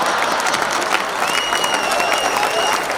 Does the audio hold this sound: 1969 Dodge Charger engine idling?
no